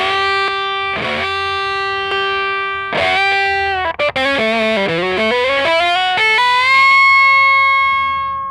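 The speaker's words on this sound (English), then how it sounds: "Just a great sound in overdrive. I guess it's more on the distortion side." An electric guitar played through an Earthquaker Devices Life Pedal with overdrive and distortion rings out in sustained chords, followed by a descending run of distorted notes and a final held chord, loud and alone.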